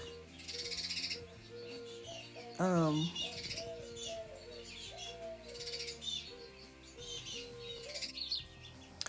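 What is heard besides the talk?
birds chirping and cooing outside open door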